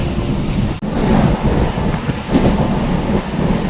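Loud, continuous rushing rumble of a moving train heard from inside, with wind-like noise and one brief dropout near the start.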